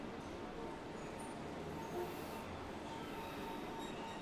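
A subway train in the Cities: Skylines city-building game gives a steady, dense rumble of rolling cars, with a brief swell near the middle and no clear speech over it.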